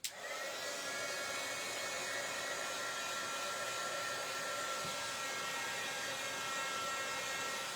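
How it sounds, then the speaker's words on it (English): A heat gun blows hot air in a steady, even whoosh with a faint motor whine, running continuously and close after a brief click at the start, with no voices. "And a heat gun, for those of you who might not know, is nothing like a hair blow dryer."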